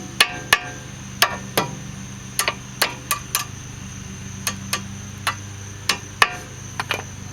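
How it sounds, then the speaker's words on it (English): A hammer taps a ceramic front brake pad into place on a 1998 Mercedes R170 SLK230, sharp metallic ticks at an uneven rhythm, close and distinct over a low background hum. "And then just tap it down with the hammer."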